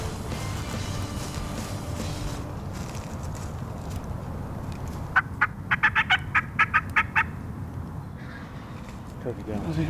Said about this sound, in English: Turkey gobbles.